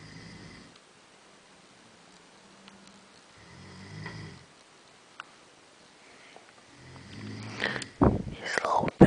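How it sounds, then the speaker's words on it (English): A man snores in slow, soft breaths with quiet pauses between them, followed by louder rustling and noise near the end. "Snores like an old man."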